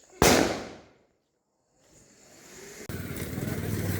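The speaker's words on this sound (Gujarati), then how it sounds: "અત્યારે ફટાકડા ફોડવાની સ્ટાર્ટિંગ થઈ ગઈ છે." A Diwali firecracker bangs once, loud and close, then fades out. A rising rumble of engine or crowd noise follows, with another burst starting near the end.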